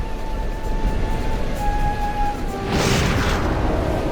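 Fireworks launching an RC car in the Sly 3: Honor Among Thieves video game, a steady hum with tones broken by a sudden loud whooshing burst of the launch that roars on to the end.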